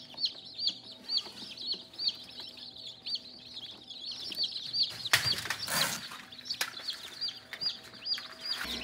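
Newly hatched chicks in an incubator give rapid, repeated high-pitched peeps in a steady chirping chorus, close by, with a brief rustle and bump in the middle.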